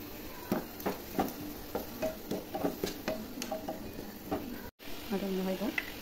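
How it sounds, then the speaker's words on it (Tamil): Small onion pieces frying in a pan for a Tamil-style egg masala gravy, with repeated stirring scrapes over a soft sizzle, close and moderately quiet, a short gap near the end. "அதுக்கப்புறம் சின்ன சின்ன வறுத்த வெங்காயம்"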